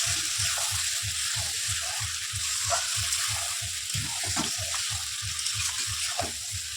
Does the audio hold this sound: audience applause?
no